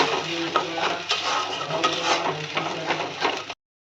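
A spoon stirs cashew and melon seed paste in a pan with busy, close scraping and clinking, a faint sizzle and no talking. It stops abruptly at the end.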